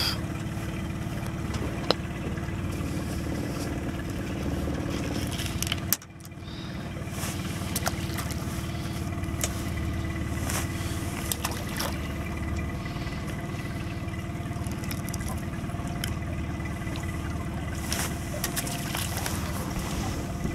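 A small boat's engine runs steadily out on open water while fishing, a constant low drone with a brief dip partway through, heard alone without talk.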